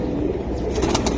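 Silver pigeons coo in a low, soft, continuous murmur among a group of birds at a pigeon sale, with a few faint higher rustles near the end.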